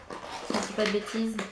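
A pet dog whimpers softly in a home, giving a few thin, high, wavering whines under a woman's close, ongoing speech.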